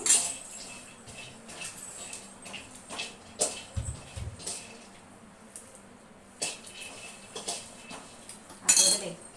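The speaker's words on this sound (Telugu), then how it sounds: "ఇప్పుడైతే ఈ టమాటాలు ఇవన్నీ కూడా మనం చిన్న ముక్కలు కోసి మిక్సీకి తగినట్టు పెట్టుకుందాము." A knife chops tomatoes into small pieces for grinding, giving irregular sharp taps and clinks against a board or plate with quiet gaps between, plus a brief low thump midway; no speech.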